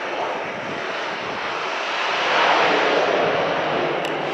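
A cargo plane lands at Princess Juliana International Airport on St. Maarten with a broad, steady jet roar that swells midway as reverse thrust builds, then stays loud and sustained.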